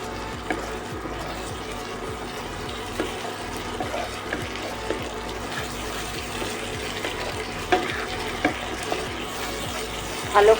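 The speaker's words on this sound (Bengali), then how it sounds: "ভালো করে মশলাটা কষিয়ে নেবো।" Ground spice paste sizzling in a pan over low to medium heat for chili chicken, a steady soft crackle and hiss with occasional scraping and small pops, fairly quiet and close.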